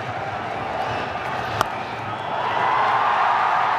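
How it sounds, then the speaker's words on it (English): A large cricket crowd at the SCG, with Indian supporters chanting, keeps up a steady, dense roar of voices, swelling slightly louder toward the end, with one sharp clap-like crack partway through. "the Indian quota of this SCG crowd were chanting right the way through that stroke"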